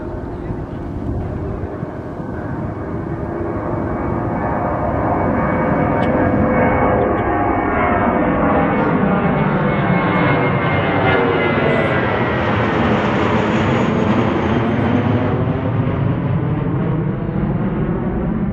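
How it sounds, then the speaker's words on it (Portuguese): A jet airliner lands at Ronald Reagan airport, heard from nearby Gravelly Point Park. Its engine roar swells loud and close, then holds as a sustained whine with a Doppler-like pitch sweep as it passes overhead. "Pousando, landing."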